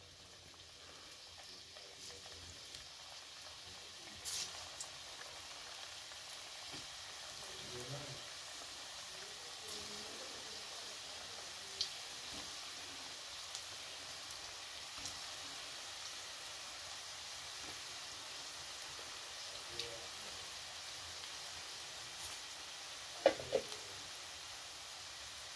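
Maggi pakoras deep-frying in hot oil, a faint steady sizzling hiss with occasional soft clicks and bubbles, quiet and continuous throughout.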